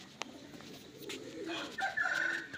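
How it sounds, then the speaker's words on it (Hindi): Chickens cluck in a farmyard, with short tonal calls growing louder toward the end over a background of outdoor noise. "ये मुर्गियां हैं"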